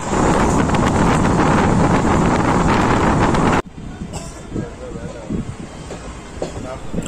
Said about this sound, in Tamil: நம்ம ட்ரெயின் பயங்கர வேகத்தில் போயிட்டே இருக்கு.